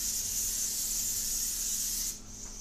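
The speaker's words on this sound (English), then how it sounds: "this particular one, this is coconut oil nonstick cooking spray" Coconut oil nonstick cooking spray gives a close, continuous airy hiss for about two seconds, then cuts off, leaving quieter room noise.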